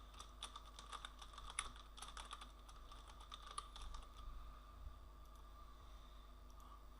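Fast, even clicking of typing on a computer keyboard, close and quiet, in short bursts that thin out toward the end.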